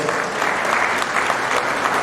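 A crowd at a memorial lecture gives sustained applause for a university dean, dense and even clapping filling the whole moment without pause.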